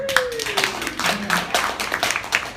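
A comedy club audience claps steadily throughout in a continuous spatter of hands, with a voice briefly heard over it.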